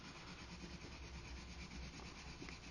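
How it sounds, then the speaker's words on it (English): Ordinary colored pencil scumbling lightly in small circles on plain paper gives a soft, steady, scratchy rubbing. It is close and continuous, with no voices. "when we color lightly in circles to lay down colors, it's called scumbling"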